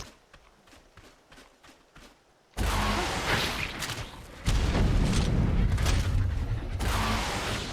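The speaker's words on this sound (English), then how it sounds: "blow up a couple more plant turrets" Loud explosions in Ark Survival Ascended as plant turrets are blown up, a sudden heavy blast ending a stretch of soft footsteps and then a sustained roaring rumble with a second surge.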